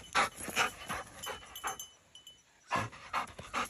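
A young hunting dog, almost two years old, pants rapidly and steadily close by, with quick rhythmic breaths that pause briefly and then resume, alone without talk.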